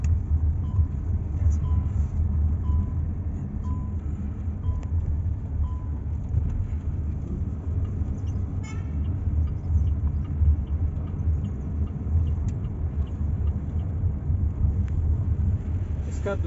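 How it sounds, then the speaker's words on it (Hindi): An MG Hector SUV drives at NIT Hamirpur, its steady low road rumble and engine drone continuous throughout, with some wind buffeting on the microphone. "एमजी की गेड़ी है एनआईटी हमीरपुर में भाई।"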